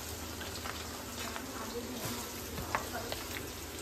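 Onion drops into hot oil in a home kitchen pan while a chicken dish is cooked, giving a soft, steady crackling sizzle with a few sputters. A voice talks quietly nearby.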